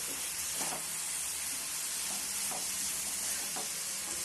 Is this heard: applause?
no